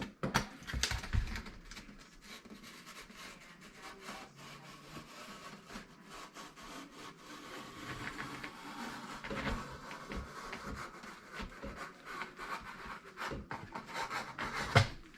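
Blade cutting a bevel into a foam board wing for a model aircraft, a quiet continuous scraping and rasping with short rubbing strokes, close up and alone without talk.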